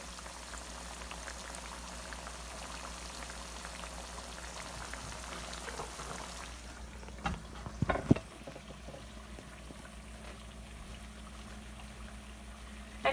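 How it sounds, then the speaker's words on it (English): Plantains frying in oil on a stovetop at medium heat, giving a steady, continuous bubbling sizzle with crackly spatter, close and even throughout, with a few brief clatters partway through. "I'll just let these fry for a few more moments before I smash them."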